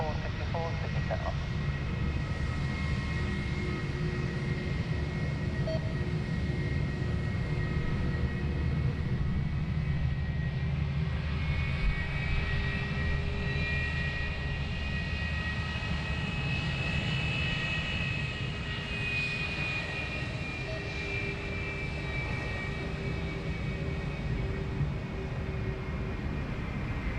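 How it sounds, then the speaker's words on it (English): A China Southern Boeing 777 departing Sydney Airport produces a steady, broad jet engine roar that persists throughout, heard from a distance with faint tonal whine rising and falling, and no clear talk over it. "after the China Southern 777 departure"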